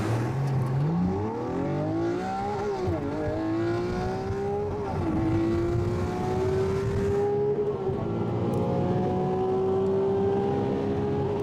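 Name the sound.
Lamborghini supercar accelerating hard from a standstill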